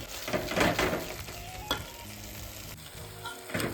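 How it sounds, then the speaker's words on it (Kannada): Fenugreek leaves frying and cooking in an open pan for methi pappu, a steady close sizzle with bursts of stirring and scraping, no voices. "ನೋಡಿ ಇವಾಗ ಮೆಂತ್ಯ ಸೊಪ್ಪು ನೀಟಾಗಿ ಬೇಯ್ತಾ ಇದೆ"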